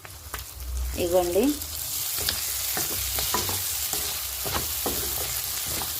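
Prawns roasting in ghee in a pan, a steady close sizzle with occasional stirring scrapes and clicks, while someone talks briefly over it.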